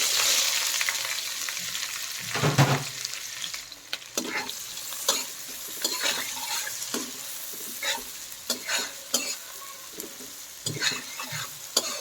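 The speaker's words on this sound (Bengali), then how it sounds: "এখন এই তেলের মধ্যে দিয়ে দিচ্ছি আমি চার পাঁচটা পেঁয়াজ কুচি আর সাত আটটা মরিচ" Four or five chopped onions and seven or eight chilies frying in oil for a broiler chicken curry, a close, continuous sizzle broken by frequent scraping clicks of a spatula stirring the pan, no talk.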